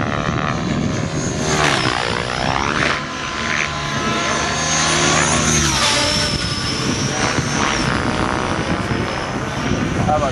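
An electric 700-size RC helicopter, a T-Rex 700E, flies hard at a 2009 Las Vegas event. Its loud, close rotor and motor whine swells and sweeps in pitch without letting up.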